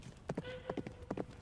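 Horse hooves clip-clopping as riders travel on horseback, a few distinct hollow knocks in uneven pairs, close and moderately loud over a faint background tone.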